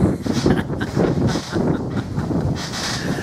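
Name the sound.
wind rising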